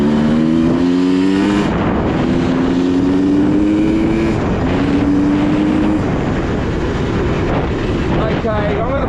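A 2024 Beta XTrainer dirt bike engine revs and climbs in pitch over several throttle pulls while riding, loud and close throughout with wind rush.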